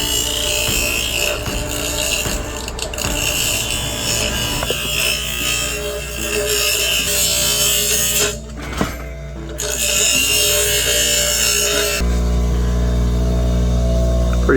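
Pond pipe fitting being worked on a grinder, a steady close abrasive whir with brief interruptions and a louder, rougher stretch near the end.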